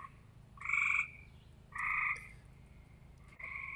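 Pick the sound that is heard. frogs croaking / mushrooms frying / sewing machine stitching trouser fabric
frogs croaking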